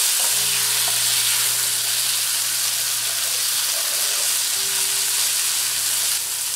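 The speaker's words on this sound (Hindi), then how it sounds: "अब हम इसमें बारीक कटा हुआ टमाटर ऐड कर देते हैं और इसको अच्छी तरह से मिक्स कर देते हैं इसमें।" Finely chopped tomato frying and being stirred with golden-brown onions and peas for restaurant-style paneer bhurji, a loud, constant sizzle close by with stirring scrapes, no voices.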